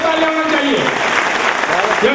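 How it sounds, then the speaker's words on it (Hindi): An audience claps steadily and loudly throughout, with a voice speaking over the applause. "सर के लिए जोरदार क्लैपिंग होनी चाहिए दोस्तों"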